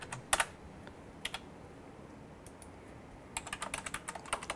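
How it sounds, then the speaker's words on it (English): Password keys tapped on a desktop computer keyboard, a quick burst of clicks early on, a few isolated presses, then a steady run of rapid keystrokes near the end, close and fairly quiet with no talking. "Type in your password, hit login."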